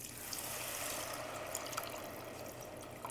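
Water streams steadily into a pan of sautéed rice for Filipino chicken porridge, a continuous close pouring and trickling wash with no talk over it.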